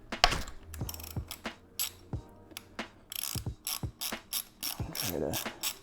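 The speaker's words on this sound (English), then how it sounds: "you're going to take your 17mm ratchet. Here's your drain bolt down here on this bike." A 17mm ratchet cracking loose the oil drain bolt on a Yamaha MT07 motorcycle, heard as close, crisp bursts of ratchet clicking in quick repeated strokes with short pauses between them.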